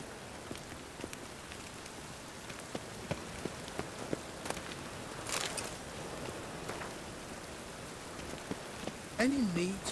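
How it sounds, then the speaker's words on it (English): Steady rain patters on surfaces throughout a video game scene, a dense even hiss with scattered louder drops, plus a brief tonal game sound near the end. "Looks like rain."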